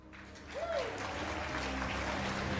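An audience applauds at a Dead by Daylight tenth-anniversary live showcase. The clapping swells after a brief quiet start into a steady, fairly distant wash, with a short tonal sweep near the beginning.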